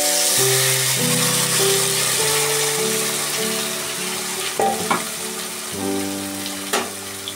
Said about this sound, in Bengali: এবার এই যে মিক্সড করা যে শিমটা রয়েছে, সেইটা আমি মশলা মাখানো শিমটা এই তেলের উপরে